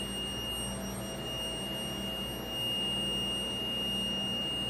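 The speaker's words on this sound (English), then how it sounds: "a little buzzer went off to let people know that I'm in here" A steady electronic door buzzer tone drones on continuously beneath a low hum in a hotel marketplace, with no talking.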